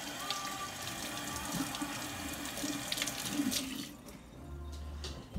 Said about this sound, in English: So we're gonna go ahead and wash our hands real good.